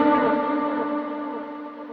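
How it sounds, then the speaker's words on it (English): Electric guitar played through overdrive with reverb and delay on a worship pedalboard, a sustained chord ringing out with washy echo tails, fairly loud and steady, slowly decaying with no talking. "So I'll show you an example now with some reverb, delay, and drive."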